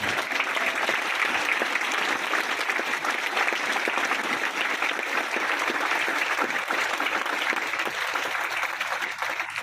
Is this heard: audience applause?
yes